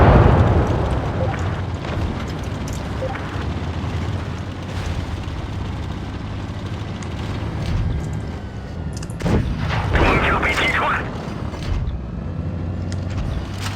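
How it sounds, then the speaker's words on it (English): Tank cannon fire aimed at a KV-3 in a tank video game, with booming shell blasts and rumbling explosions over a dense, continuous battle din, fairly loud throughout and with one heavier crash near the end. "we're like constantly firing shells at this KV-3 and then getting out a lot of damage on it"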